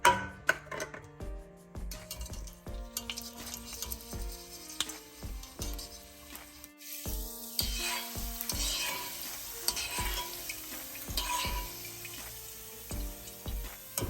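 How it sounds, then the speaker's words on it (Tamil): An ingredient deep-frying in oil for a potato mixture snack gives a faint bubbling sizzle, broken by intermittent clinks and scrapes from a utensil, with music playing throughout. "இப்போ இந்த ப்ளம்ஸை பொரிச்சு எடுப்பேன்."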